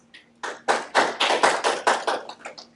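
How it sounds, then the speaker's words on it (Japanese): Shareholders at an annual general meeting clap to approve a resolution, about nine distinct, fairly close hand claps in a short, even run that thins out at the end. "ご賛成の株主の皆様は拍手をお願いいたします"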